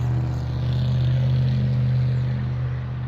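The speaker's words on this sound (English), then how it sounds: "But not due to loud trucks like that." A loud truck passes close by, its deep droning engine hum holding steady and swelling slightly through the middle, with no talking.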